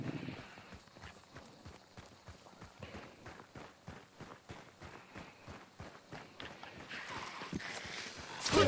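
Horse hooves clip-clop in a steady, fairly close rhythm in a PC video game, the thudding beats running the whole stretch with faint ambient noise and a louder burst at the end.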